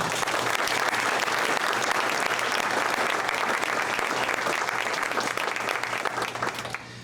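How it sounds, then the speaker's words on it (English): Dense, steady applause from an audience honoring school staff at the Pickaway-Ross CTC expansion groundbreaking ceremony during Teacher Appreciation Week, sustained throughout and easing off slightly near the end. "can we have a round of applause for our staff that are here today?"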